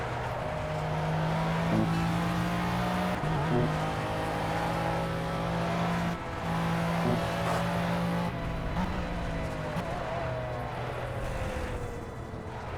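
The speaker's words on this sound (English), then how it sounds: "Grinding the gears." A wide car in a racing video game hotlap, its engine droning and revving in a steady tone that drops in pitch at several gear changes, with the gears grinding through the shifts.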